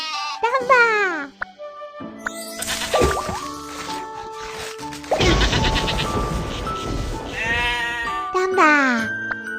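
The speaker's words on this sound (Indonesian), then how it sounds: "Domba." A cartoon sheep in a Baby Bus animal-care game bleats loudly at the start and again near the end, with bright game jingles, squishy effects and musical tones filling the gap between.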